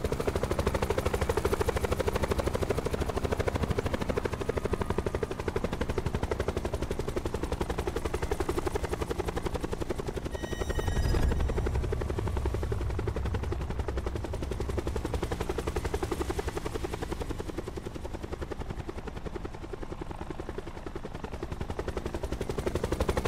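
A helicopter in the Call of Duty Blackout battle royale mode drones with a loud, continuous rotor thump and engine whine throughout, with a brief burst of gunfire around the middle and no talking.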